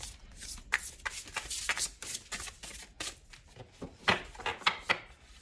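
Large tarot cards shuffled by hand, a rapid run of crisp riffling and slapping bursts with short pauses between, close and fairly loud, no talking.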